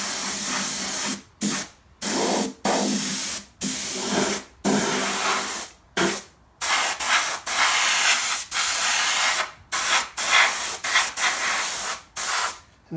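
Spray gun spraying paint onto a car chassis, loud close hissing bursts of varying length, separated by short silent pauses as the trigger is released and pulled again.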